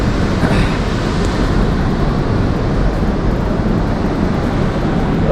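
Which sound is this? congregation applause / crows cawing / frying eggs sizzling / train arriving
train arriving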